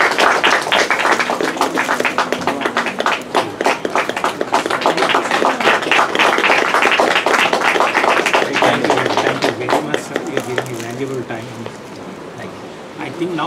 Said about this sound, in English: Give you a huge clap.